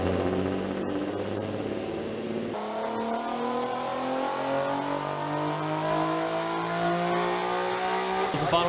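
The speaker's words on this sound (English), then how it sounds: "We're going to do a quick little dyno pull for you guys on a 370Z here, tuned on up rev." A tuned Nissan 370Z revs hard on a dyno, engine tone climbing steadily through the gears in a long, loud pull, with a brief shift break near the start and a sharp crackle as it ends.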